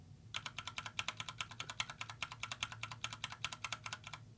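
Fast, even typing on a SnowFox 60 percent mechanical keyboard fitted with brown switches, a close, steady patter of crisp keystrokes heard alone over a faint low hum.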